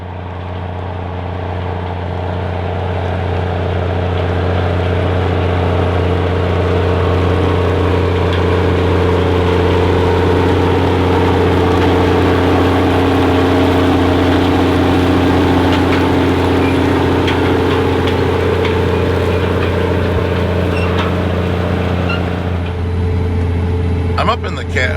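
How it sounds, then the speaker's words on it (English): Inside the cab of a 2006 Case IH STX480 Quadtrac tractor pulling a John Deere 512 nine-shank disc ripper during fall tillage, a steady loud low engine drone with strong harmonic hum runs unbroken throughout. "I'm up in the cab of a Case IH STX480 QUADTRAC tractor, and it is working here with a John Deere 512 9-shank disc ripper"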